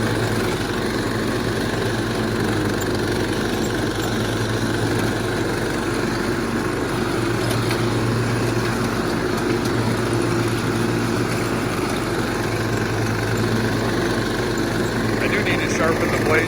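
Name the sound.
lawn mower engine running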